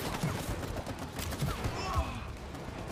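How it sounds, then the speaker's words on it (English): Gunfire in the It Takes Two video game as a chain is shot at, with rapid repeated shot bursts spread across a few seconds under game effects and voices talking. "And we're gonna shoot the chain."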